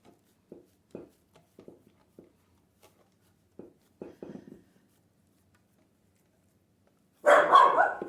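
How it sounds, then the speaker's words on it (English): A dog barks several times in short bursts at a distance, faint and intermittent, followed by a louder, closer burst of barking at the end. "Oops, sorry about the dogs."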